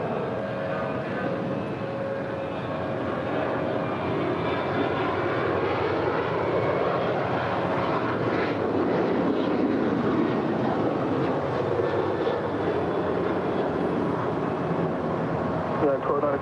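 Jet engines of airliners at the LAX runway, including a United Boeing 737-800, roar steadily and loudly throughout, a broad continuous rumble and whine with voices talking over it.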